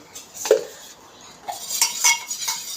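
A utensil stirs a beaten egg mixture for muttai kalakki in a bowl, a short series of scraping swirls and light clinks, close and moderately loud, with no talking.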